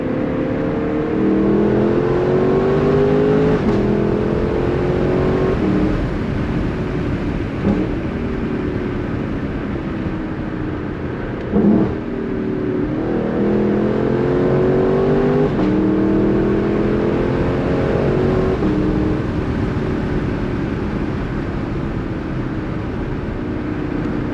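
A loud 2022 Lexus LC500 V8 engine revs and pulls hard on a back road, pitch climbing then dropping sharply at each gear shift, repeated several times with brief pops between.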